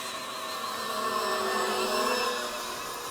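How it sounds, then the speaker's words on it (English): Small electric motors of a homemade RC A-10 Warthog model whine steadily at high pitch, their tone wavering as the RPM shifts, one motor sounding rough; continuous and fairly close with no talking. "I feel like one of the motors does not sound great."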